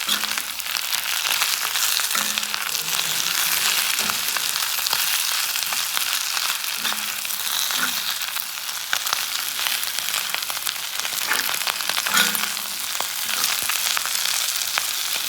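Fish head and potatoes fry in a pan for a Manipuri fish head dish, a steady close hiss of sizzling oil running throughout with faint scraping and stirring clinks now and then.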